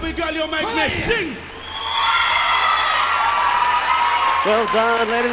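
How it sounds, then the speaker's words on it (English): A studio audience at a singing competition show breaks into applause and cheering with whoops, after a vocalist's last sung notes. The clapping builds and holds steady, and the singer's voice returns briefly near the end. "Round of applause."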